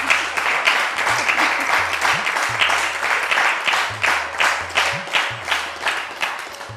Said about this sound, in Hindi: ज़रा अपने लिए तालियां बजा दें।